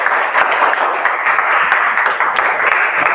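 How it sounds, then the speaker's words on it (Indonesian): Classroom applause for the first student group, a steady wash of many hands clapping at close range with no gaps, loud and continuous throughout. "Tepuk tangan dulu sama kelompok 1."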